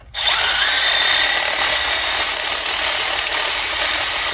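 A wire wheel on a power tool scrubs the mating surface of a front brake rotor on a 2019+ VS30 907 Sprinter 2500, a loud, steady, close whirring grind that starts abruptly and runs continuously.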